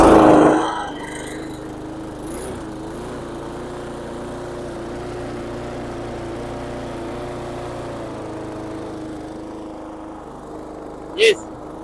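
A petrol lawn mower engine idles steadily with a low, even drone after a brief louder burst at the start, with a short sharp noise near the end.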